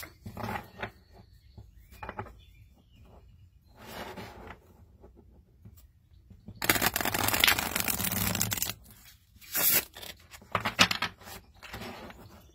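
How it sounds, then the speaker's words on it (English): Linen-finish tarot cards are handled and shuffled in quiet bursts, then a longer, louder riffling shuffle, followed by a few shorter snaps and taps. "They shuffle so nice. You can hear that, you can hear that linen."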